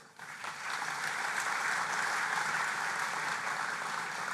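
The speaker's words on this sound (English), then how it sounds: "I think they all deserve a round of applause" Audience applause at a football awards night, starting quickly and building into a full, steady round of clapping that holds to the end.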